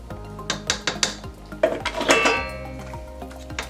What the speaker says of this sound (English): I'm going to take my spatula out and scrape any extras.